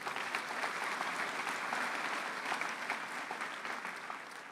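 Audience at a spring commencement ceremony applauding, a steady dense wash of many hands clapping from a full house that holds throughout and eases slightly at the end.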